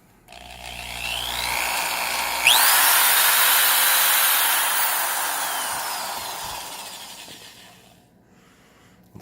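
A Milwaukee 0101-20 quarter-inch high-speed hole drill spins up with a sharp whine, runs loud and close for several seconds, then winds down and stops, with no voices.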